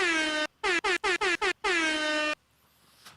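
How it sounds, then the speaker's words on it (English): A loud air horn blasts: one long honk, then a quick run of five short bursts and another long blast, followed by quiet. "Let's give him an air horn."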